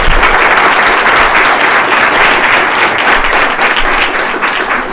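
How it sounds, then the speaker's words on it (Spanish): An audience applauds loudly and steadily, a dense wash of many hands clapping that holds throughout and tapers slightly at the end. "Pido un aplauso para darle la bienvenida a la doctora."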